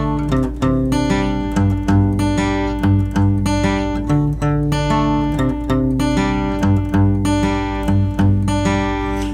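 An acoustic or electric guitar strums a chord progression at a beginner level-four pattern, steady and rhythmic, loud and close with no talking.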